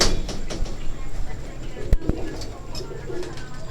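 Caged pigeons coo softly and steadily in a pen, with low murmuring calls close by, a few sharp knocks and background chatter of people talking.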